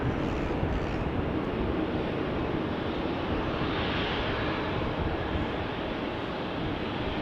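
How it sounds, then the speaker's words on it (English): An Embraer 190 airliner departing Amsterdam Schiphol gives a steady, broad engine roar that holds at a constant level throughout, with wind rumble and no voices. "Here we have an Embraer 190 to Rennes."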